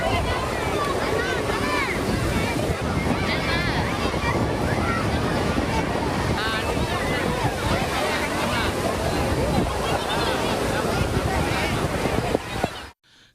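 Rough surf at Cuddalore beach on a day of heavy, churning waves, a continuous loud roar of breaking water with wind buffeting the microphone and a faint murmur of people, running steadily before cutting off abruptly at the end.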